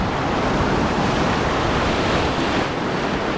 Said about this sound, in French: Aujourd'hui, il y a une petite houle de 1 mètre quand même